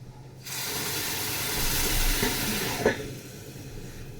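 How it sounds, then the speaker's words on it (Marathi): Hot water pours onto semolina in a pot, a sudden steady hissing gush that starts abruptly, holds for a couple of seconds, then cuts off with a small clunk. "त्याच्यामध्ये मी गरम पाणी घालून घेते"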